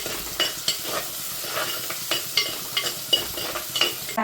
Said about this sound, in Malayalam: ഇനി അതിനകത്തോട്ട് ഈ കൊച്ചുള്ളി ഇടാം. 4-5 കൊച്ചുള്ളി ഒരു 10 കാണുമായിരിക്കും. പച്ചമുളക് 2 അത്ര ഒന്ന് ഇടുന്നത് വഴകട്ടെ. നല്ലപോലെ വഴന്ന് വരണം.